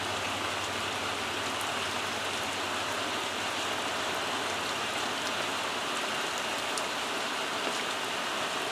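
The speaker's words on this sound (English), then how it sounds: "the rain they've been forecasting has arrived" Steady rain falling outdoors in the late afternoon, a constant broadband patter and hiss that holds at an even level for several seconds, with occasional sharper drop ticks and no voices.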